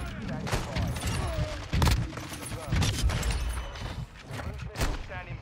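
Dense, close gunfire from a Call of Duty: Modern Warfare 2 multiplayer match, with rapid shots and heavy thumps going on steadily throughout.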